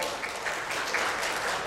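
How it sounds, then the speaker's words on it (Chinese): Applause from a seated audience at a medical association academic seminar in Taiwan, welcoming the association chairman to the podium; steady, dense clapping sustained at an even level throughout, with no voices over it. "那我们今天就以热烈掌声欢迎王宏宇理事长哦"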